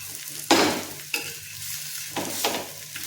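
Small potato-stuffed parathas fry on a pan with oil, a low steady sizzle broken by several bursts of louder hissing and a sharp scrape as they are turned.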